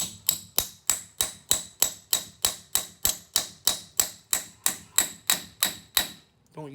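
Seventeen or so evenly spaced metal hammer taps ring out on a brake bleeder, sharp bright clicks in a slow steady rhythm, close and fairly quiet, with nothing else heard.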